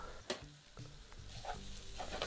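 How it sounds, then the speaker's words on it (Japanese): Potatoes already sautéed crisp are tossed with caramelized onions in a pan for Lyonnaise potatoes, giving a quiet, steady sizzle broken by a few scraping stirs and one sharp clack, with no talking. "あとはこのまま一緒にソテー、まんべんなく玉ねぎが行き渡るようにして完成になります"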